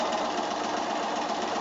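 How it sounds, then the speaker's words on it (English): Steady, even whir of a sewing machine stitching a long diagonal seam along a drawn line on 2.5-inch quilt squares for a Road to Oklahoma block, running continuously at close range. "I'm just going to come in and sew along on my drawn line with a long diagonal one"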